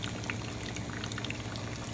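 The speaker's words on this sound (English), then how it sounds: "I've got two pumps going right now that's pouring oxygen to the solution." Two air pumps with air stones bubble oxygen into a brewing compost tea made from homemade worm castings, a steady, close, continuous watery fizz and gurgle with no talk.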